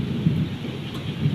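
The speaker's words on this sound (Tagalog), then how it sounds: "So nakatakot, lakas ang kulog kidlat." Loud, deep thunder rolls through a heavy rainstorm, a sustained low rumble layered over the constant wash of falling rain.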